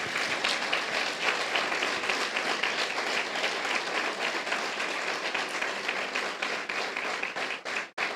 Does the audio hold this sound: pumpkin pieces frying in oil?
no